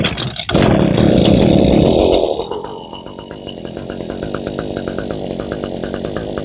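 An Echo powerhead fitted with a weedeater attachment fires up with a loud two-stroke roar for about two seconds, then drops to a rough, pulsing idle that keeps running.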